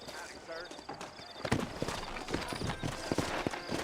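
Horse hooves clip-clopping in the Western video game Red Dead Redemption, a rhythmic run of close hoofbeats building in loudness after a quieter start, with someone talking over them.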